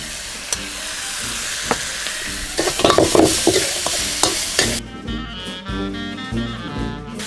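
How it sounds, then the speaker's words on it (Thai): Minced pork stir-fried with soybean paste in a pan for a bean sprout and tofu dish: loud, close sizzling with busy scraping stirs that quiet down toward the end. "หนูใส่เต้าเจี้ยวลงไปผัดกับหมูตอนนี้นะ"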